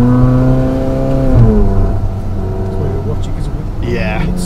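A Ferrari 458 Spider engine holds a loud, rich note, then drops as the revs fall away, and briefly climbs again near the end, heard up close on the road.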